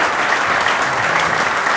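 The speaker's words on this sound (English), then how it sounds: "big round of applause, please, for these four cracking gentlemen" A fan audience applauds at a football club's supporter event after a question session with the board and manager, loud, dense clapping sustained evenly throughout.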